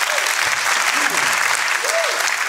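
Studio audience at a German TV quiz show clapping steadily, dense applause with a voice speaking briefly over it.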